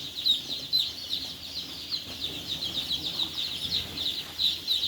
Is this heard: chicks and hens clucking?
yes